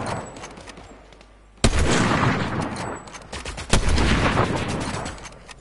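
Loud, dense gunfire from a shooting video game, sustained rattling bursts with sharp heavier blasts around the middle and later, filling the whole stretch without voices.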